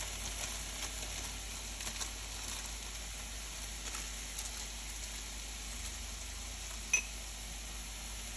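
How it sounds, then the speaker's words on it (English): Chopped, already-cooked bacon sautés in a pan with a soft, steady sizzle that sounds a bit like light rain, continuous and fairly quiet throughout, with one brief sharper pop near the end. "I have some chopped bacon that I cooked up. So I'm just going to add this in here so it can saute for a bit."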